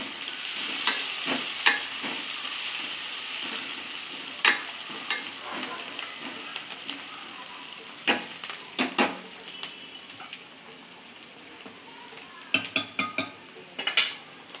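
Green chilli, garlic and coriander sizzle steadily as they fry in a pan, with clinks and scrapes of a stirring spoon on metal breaking through at intervals.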